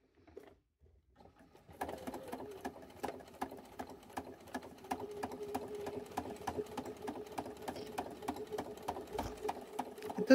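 Home sewing machine stitching fabric place mats into pouches at a 4 mm stitch length, a rapid, steady mechanical rattle starting after a brief pause and running continuously up close.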